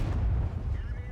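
A tank cannon shot from an AMX M4 49 Liberté in World of Tanks, a single heavy, booming blast with a low rumbling tail, loud and close.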